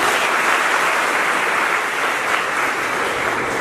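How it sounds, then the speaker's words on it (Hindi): An audience at a coaching academy's motivational talk applauds loudly and steadily, with dense, even clapping from many hands throughout and no voices. "एक बार खुद के लिए जोरदार तालियां"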